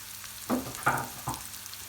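Crumbled lor cheese and peppers fry in a pan, giving a soft steady sizzle broken by three louder scraping stirs, with no talking.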